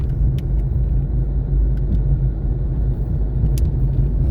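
A car drives along a road in heavy fog in Saudi Arabia, a steady engine and tyre rumble throughout with a few faint high ticks.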